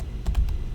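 A few quick taps on a computer keyboard come close and clear in a short burst, with no speech over them.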